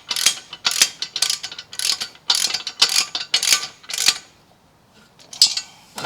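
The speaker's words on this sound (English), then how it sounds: "I'm just actually using a 13mm spanner and socket on this." A 13mm spanner and socket ratchet a bolt on a rear hitch kit for a John Deere Z355E zero-turn mower: close, sharp bursts of metallic clicking in repeated strokes, then a short pause and a final click.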